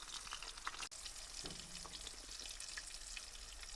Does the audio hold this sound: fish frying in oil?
yes